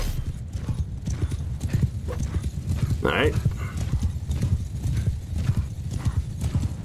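Horses of horse archers in the game Mount & Blade 2: Bannerlord, a dense rapid clip-clop of many hooves with a brief whinny midway, under someone talking.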